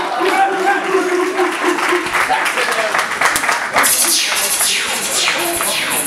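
An audience at a UK music event gives a performer a round of applause, with scattered clapping and crowd noise rising partway through. A voice talks over the clapping.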